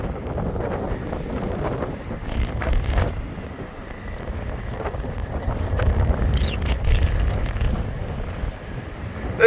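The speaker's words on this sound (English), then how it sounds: "It's just very windy today." Strong gusty wind from Storm Isha in Blackpool buffets the microphone in a continuous, surging roar, rising and falling throughout.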